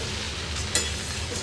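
Food is stirred and mixed in a frying pan over a soft steady sizzle, with one sharp scrape of the spatula partway through.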